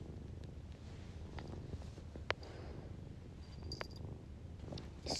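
A domestic cat purrs close by in a low, steady, rumbling drone that runs through the whole stretch, with a few faint clicks and rustles on top.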